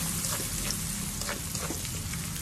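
Sliced onions frying with a pinch of cumin seeds in a pan give a soft, even crackling sizzle, fairly quiet and continuous with faint spattering pops.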